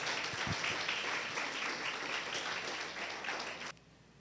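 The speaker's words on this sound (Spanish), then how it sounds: "les enviamos saludos, bendiciones y un aplauso para nuestro Señor Jesucristo" Congregation applause at a church gathering in Aragua state, Venezuela: soft, distant, continuous clapping from many hands that runs steadily, then cuts off abruptly near the end.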